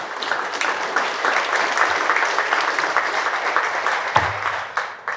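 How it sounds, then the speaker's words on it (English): A room of business owners at a city manager's meet and greet applauding, sustained dense clapping throughout, close and loud, with a brief low thump near the end. "let's give yourselves a round of applause"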